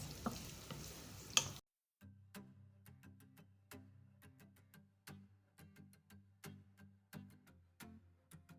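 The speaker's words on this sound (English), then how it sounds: "add the onions, fry for a bit before adding some spices" After a brief noisy opening, onions fry quietly in oil with repeated light taps and scrapes of stirring at a steady pace, close but soft.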